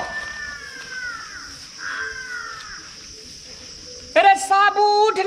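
A crow caws near a rural village home, a harsh repeated call over a steady insect and cricket drone, the loud caws clustered at the end.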